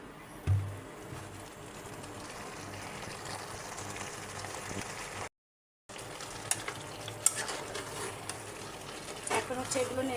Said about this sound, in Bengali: এখন হচ্ছে এই যে পুঁই শাকের ডাঁটা আর আলুগুলো দিয়ে দেবো।